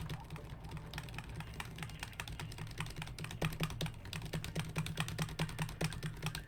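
Steady, fast hammering of computer keyboard keys during a Spyro Reignited session, close rapid clicks in an uneven rhythm with a faint background hum.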